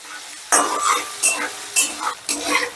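Green chillies and grated ginger stir-fried in a pan for masala paneer, heard as four rhythmic bursts of close, loud sizzling and spatula scraping, each swelling and fading.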